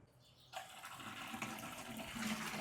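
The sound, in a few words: water filling a bucket from mist irrigation supply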